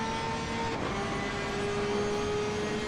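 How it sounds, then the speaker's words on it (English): A Porsche race car's engine in a GT Europe race at Silverstone, heard onboard as a loud, continuous high-revving drone that holds steady throughout with no voices over it. "Lovely engine sounds by the Porsche."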